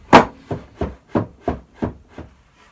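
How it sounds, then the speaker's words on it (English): A router sled slides along oak hardwood rails on a homemade guitar-building jig, giving seven evenly spaced wooden knocks that fade slightly toward the end, close and clear with no talking. "They sound nice and smooth, and they allow the sled to slide up and down."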